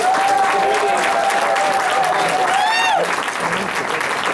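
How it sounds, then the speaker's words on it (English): An audience at a Democratic caucus meeting gives a caucus chairman steady applause throughout. A short whistle-like tone rises over the clapping near the end. "Let's give him a great round of applause."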